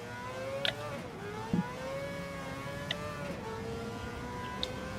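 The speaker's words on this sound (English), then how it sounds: "Lucky I didn't upshift when that was still revving through the range." A race car engine in Gran Turismo 7 revs steadily through its range, a loud continuous droning tone that rises and dips in pitch, with a few brief clicks over it.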